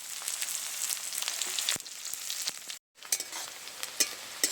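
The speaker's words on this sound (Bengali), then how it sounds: "পেঁয়াজটা হালকা ভেজে নিয়েছি।" Chopped onion with dried red chillies and whole cumin frying in oil in a wok, a continuous crackling sizzle broken by stirring scrapes and a brief pause in the middle.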